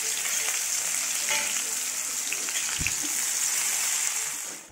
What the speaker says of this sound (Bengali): তেল গরম হয়ে গেছে, এখন একটু চিড়ে দেবো, লঙ্কা, জিরে